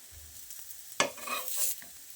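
Raw banana slices cook on a tawa in coconut oil, a quiet background sizzle broken by a sharp scrape and hiss as a slice is flipped, then a short swell of frying.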